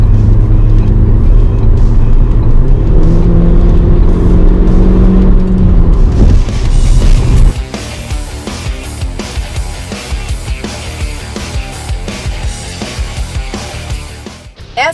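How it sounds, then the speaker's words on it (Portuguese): A 2016 Ford Focus Hatch Titanium Plus runs in sport mode, a loud close engine drone with rising revs, then a shift to a rougher, busier road and cabin roar in the second half. "Quando a gente coloca o carro no modo esporte, ele sempre fica um pouco mais ruidoso"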